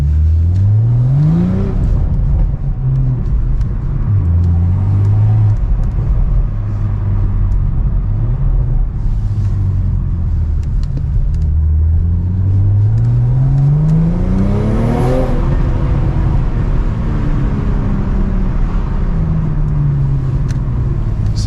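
A BMW M340i with an aftermarket downpipe revs loudly up close, with repeated climbing blips and settling idle rumble, a few rising pulls stretched across the stretch.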